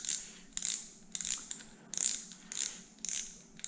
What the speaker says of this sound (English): you're gonna tighten that drag up